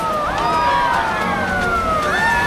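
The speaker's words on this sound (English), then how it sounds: "Those sirens are being played because this is obviously a no swimming zone" Warning sirens at a no-swimming beach in Udupi wail in rising and falling sweeps, moderately loud over a constant wash of surf and crowd noise.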